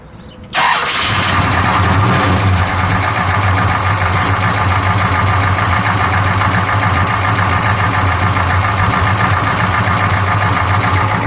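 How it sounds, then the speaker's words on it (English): A 1966 Dodge Charger with a 426 Hemi V8 cranks and fires loudly, then settles into a steady, rumbling idle with a lumpy, throbbing low-end pulse that carries on close and unbroken. "we'll just let it idle, and then we'll give it one good Hemi rev"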